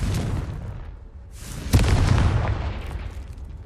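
A Confringo blasting spell going off in the Hogwarts Legacy video game: a whoosh builds into a sharp, loud blast with a rumbling tail that slowly fades, heard alone.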